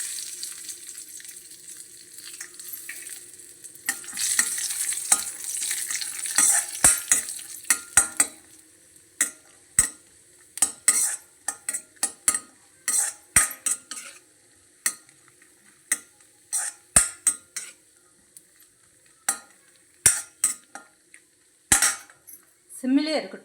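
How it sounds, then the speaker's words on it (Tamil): Cashews fry in oil on a low flame: a steady sizzle that fades after several seconds into quiet, broken by a long run of sharp, separate spoon clinks and scrapes against the pan. "நம்ம அதே எண்ணெயில் வந்து முந்திரியும் கொஞ்சம் போட்டு வறுத்துக்கலாம்."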